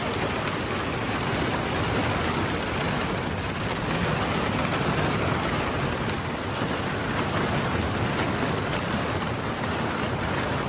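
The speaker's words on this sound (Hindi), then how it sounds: "ठंडी नहीं है, बारिश हो रही है" Steady rain pours in a village during a windy spell, a dense, even hiss that stays loud and unbroken throughout with no voices.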